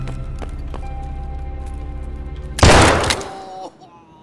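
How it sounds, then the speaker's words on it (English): Gunfire bursts out loudly in Russian Civilian Simulator, a sudden close, dense volley lasting about a second before it trails away, following a stretch of low rumbling game ambience. "The second I heard the gunshots"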